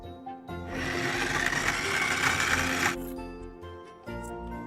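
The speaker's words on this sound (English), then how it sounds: "we're going to process about half the apple with the soft, mushy medjool dates" A food processor blending apple with soft medjool dates, a close motor whir that starts after a short pause and runs about two and a half seconds, then cuts off before a quieter hum resumes.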